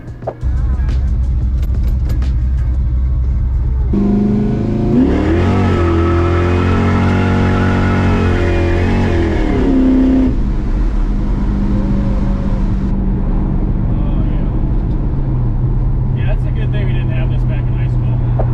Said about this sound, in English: The exhaust is very droney now